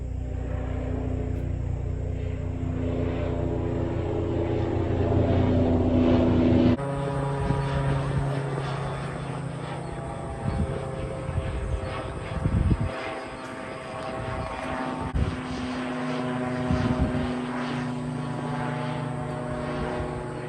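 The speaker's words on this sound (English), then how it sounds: "now we have a helicopter" A helicopter's engine and rotor drone steadily nearby, a low throbbing hum that shifts in pitch as it passes, with no talking.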